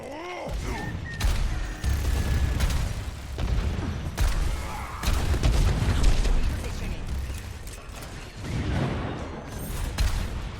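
Pharah rockets explode in Overwatch as a dense run of booming blasts and bursts under constant game noise and action.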